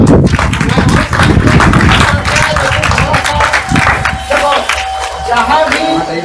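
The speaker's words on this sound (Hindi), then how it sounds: "ताली बजाओ" An audience at a school road safety event in RC Central School claps together in a loud, dense burst that continues steadily, and a voice speaks in the room during the applause.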